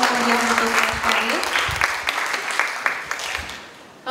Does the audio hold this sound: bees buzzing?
no